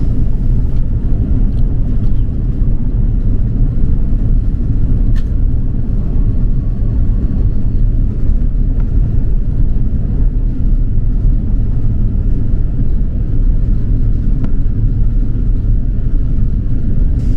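Steady, loud cabin roar inside an Airbus A340 on final approach over the Rhine, a dense, unbroken rumble of engines and airflow lasting throughout with no voices.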